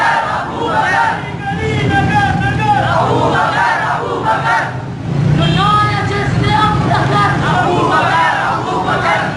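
A large crowd at an Eid Milad-un-Nabi gathering shouts a religious slogan in unison, loud and close, with the massed voices rising in waves. A voice leads the chant between the responses.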